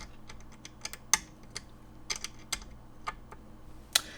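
Typing on a Keychron Q1 Pro custom mechanical keyboard with tactile banana-style switches: quiet, close-up key clicks in an uneven rhythm, with a few sharper, louder strikes standing out against a faint background hum.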